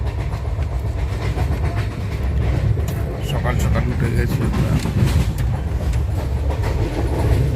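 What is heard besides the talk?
moving passenger train clickety-clack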